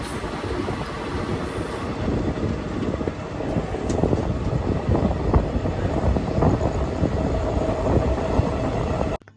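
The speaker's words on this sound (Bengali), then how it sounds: "সেখানে দাঁড়াতেই দেখা মিলল one two three one zero new দিল্লির রাজেন্দ্রনগর তেজাস এক্সপ্রেসের সাথে" Heard from the open door of the Kalka Mail, the Tejas Express rushes past on the adjacent track with a loud, continuous rumble, rattling wheels and faint squeals, and no one speaks.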